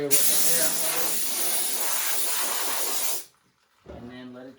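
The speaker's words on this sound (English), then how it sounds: "Now you can just spray it with" Air hose blasting a screen printing screen, a loud steady hissing spray lasting about three seconds before cutting off, followed by a short burst of speech.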